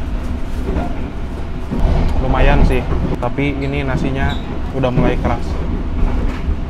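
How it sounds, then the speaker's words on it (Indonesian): A Bogowonto executive passenger train runs between Yogyakarta and Jakarta, its carriage giving off a constant low rumble beneath close, casual conversation between passengers. "perjalanan kereta api Bogowonto yang saya naiki kini telah tiba di stasiun Kroya"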